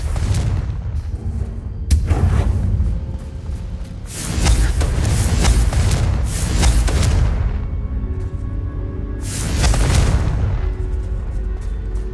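The Confringo explosion spell is cast in the video game Hogwarts Legacy, producing repeated heavy, booming blasts with deep rumbling tails, several loud bursts spaced a few seconds apart, with no talking.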